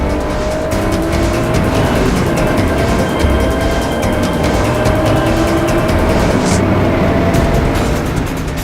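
A race car roars around a racetrack at speed, a loud, steady engine drone with faint tire noise and no talk over it.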